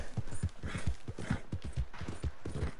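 Horse hooves clip-clop in Red Dead Redemption 2 Online, a steady, fairly close trotting rhythm of repeated muffled thuds with no talking over it.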